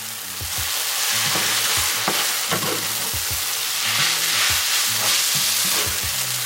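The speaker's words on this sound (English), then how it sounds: "I'm going to add my noodles into my skillet. I'm going to mix this a little bit." Noodles are tossed and mixed in a sizzling skillet, a constant frying hiss broken by rhythmic scraping and stirring strokes, close and fairly loud with no voices.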